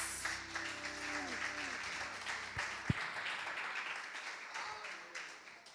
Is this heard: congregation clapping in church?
yes